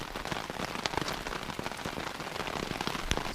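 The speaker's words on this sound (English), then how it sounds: "It's still raining." Rain drums on a tent at a campsite in Algonquin Park, a dense steady patter with sharper individual drop hits scattered throughout, close and continuous.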